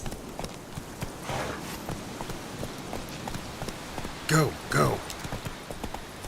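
Video game horse hooves gallop in a steady clip-clop rhythm under a voice that urges the horse on and shouts.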